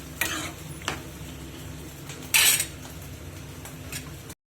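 Ridge gourd curry with tomato being stirred in a pot, a low simmering hiss broken by a few scraping clinks of a spoon and one louder metal scrape midway, no voices.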